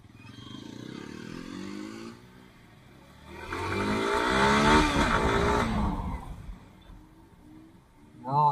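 A motorcycle with its silencer cut off idles with a rough, uneven rumble, then bursts into a loud, raw rev for a few seconds before dropping back to idle, with a short sharp blip at the end.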